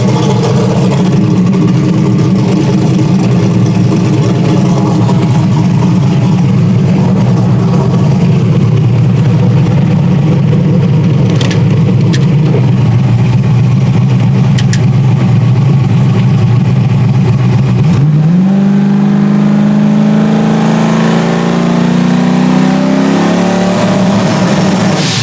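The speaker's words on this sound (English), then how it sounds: "let's give this thing a little spool test" A car engine idles with a heavy, steady low drone, then revs up in a rising sweep near the end during a spool test, loud and close with no talking.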